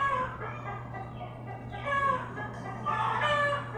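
A chicken clucks close by in a few short bursts of calls, with steady background hum throughout.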